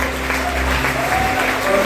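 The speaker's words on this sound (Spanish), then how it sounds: "Dale un aplauso a Dios" A church congregation applauds in a loud, continuous wash of clapping, with a voice talking faintly under it.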